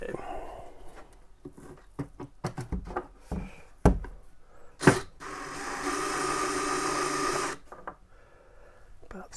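A DeWalt power drill whirs in one steady burst of about a second and a half during a Midland MXT275 radio install in an RV, after scattered knocks, clatter and talking close by.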